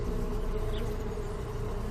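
Bees buzzing in a steady, dense drone that fills the whole moment, close and continuous with no voices over it.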